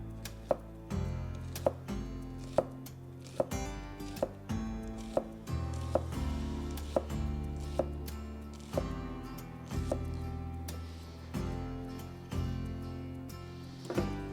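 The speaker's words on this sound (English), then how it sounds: "And there you see we have very fine dices on our shallot." A knife finely dices a shallot on a cutting board in a steady series of sharp, evenly spaced chops over soft background music, with no talking.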